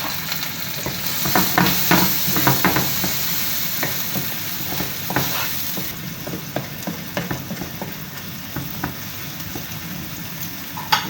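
Fried rice with garlic is stirred in a hot pan, a steady bright sizzle broken by repeated rhythmic spatula scrapes and taps, close and clear with no talking.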